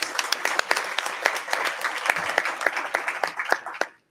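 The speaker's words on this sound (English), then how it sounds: "Let's thank all of today's sponsors with a round of applause." An audience at a Columbus Foundation event claps for its sponsors, a lively round of many hands with distinct nearby claps popping out, building briefly and then tapering off to quiet near the end.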